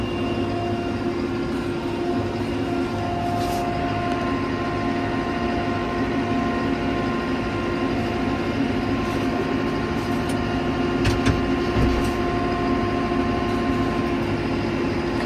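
A 2018 New Holland Powerstar 75 tractor engine idles steadily and close, a continuous low rumble with a faint hum and no talk over it.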